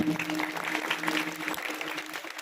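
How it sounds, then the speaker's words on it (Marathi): Audience clapping at a Marathi kirtan, a dense steady patter of many hands held at an even level for the whole stretch, with no voices over it. "एकदा जोरदार टाळी वाजवा."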